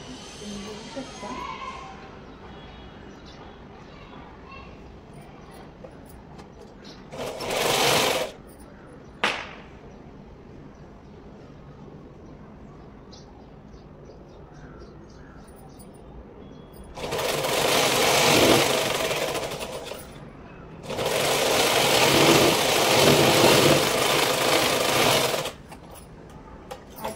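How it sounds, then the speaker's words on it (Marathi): A sewing machine stitches a baby frock seam in short bursts: a brief run, a quick tap, then two longer runs of several seconds, with quiet pauses between. Someone talks between the stitching runs. "त्या अगोदर मी सरळ बाजूने टीप मारते आणि नंतर उलट्या बाजूने टीप मारून घेते."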